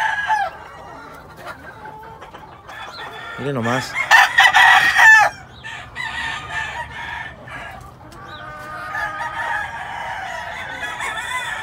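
A Gold (Gol) fighting rooster crows loudly nearby, its call rising and falling, with clucking and other chicken sounds around it and a brief spoken remark.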